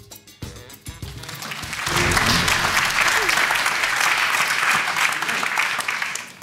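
A television quiz-show studio audience bursts into loud, sustained clapping after a brief spoken moment at the start, the applause holding steady and dense to the end.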